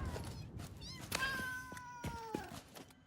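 A cat meows a few times in short, rising and falling cries, close and fairly quiet, with a soft thunk in between.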